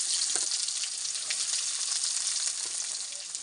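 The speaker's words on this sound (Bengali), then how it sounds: "পেঁয়াজগুলো একটু লাল লাল করে ভেজে নেব।" Onions fry in plenty of oil in a wok with dried chillies and bay leaves, a loud continuous hissing sizzle with faint crackles, heard up close and alone.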